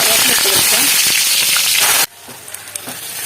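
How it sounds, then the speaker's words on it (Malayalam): Mustard seeds spluttering in hot oil in a pan for vegetable thoran, loud crackling pops and sizzle up close that cut off abruptly, leaving faint scattered pops. "നന്നായിട്ട് എണ്ണ ചൂടായപ്പോൾ നമുക്ക് കടുക് പൊട്ടിക്കാം."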